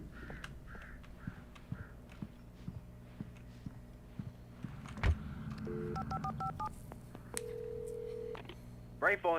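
Quiet electronic beeps of a phone keypad being dialed, a series of short tones, followed by a steadier tone, over a low ambient hum with occasional thumps.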